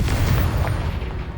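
Fiery explosion from the Confringo spell in Hogwarts Legacy, a loud, dense booming burst that fills the whole moment with rumbling low-end roar and no speech over it.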